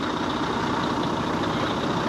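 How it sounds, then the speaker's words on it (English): A truck engine idles steadily at close range while warming up in 12-degree cold before yard jockey work at Amazon, a constant low rumble with no talk over it. "Right now I'm here warming my truck up, y'all."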